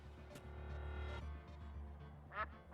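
A duck quack sound effect played on a live stream, a short nasal quack near the end, heard faintly over quiet background music with no talking.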